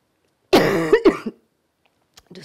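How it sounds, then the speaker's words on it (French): A speaker coughs in a short burst of two or three loud, harsh hacks, then falls quiet, with a faint throat sound at the very end. "je vous prie d'excuser ma toux"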